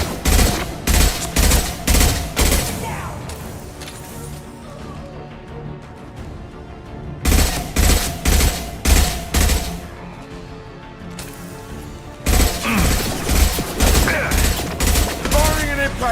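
Loud, rhythmic bursts of automatic gunfire in a World War II shooter set around Normandy, sharp repeated shots in clusters with brief pauses between volleys, over a rumbling battlefield backdrop.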